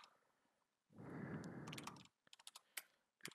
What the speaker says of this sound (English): I'm just going to type this in.